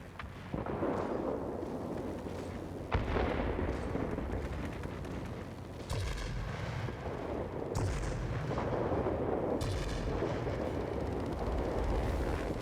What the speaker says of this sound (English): These are not very well aimed shots.